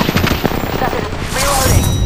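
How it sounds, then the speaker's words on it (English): Gunfire hitting the player in Apex Legends comes as a rapid, loud burst of shots and impacts that thickens toward the end, with brief talk mixed in. "Getting shot at."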